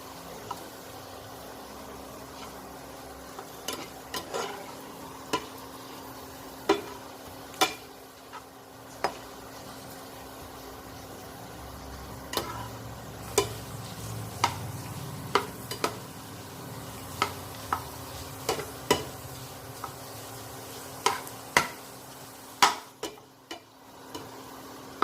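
Pappadam frying in a pan for a Kerala-style dish, with soft steady sizzling and many sharp ticks and clicks of stirring scattered throughout, fairly quiet and close, with no voices.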